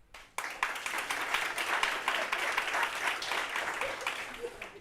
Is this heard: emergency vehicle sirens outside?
no